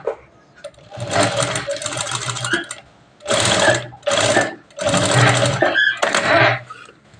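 A sewing machine stitches a katori blouse on a diagonal, a close, steady mechanical whirr in several runs of one to two seconds with short stops between them.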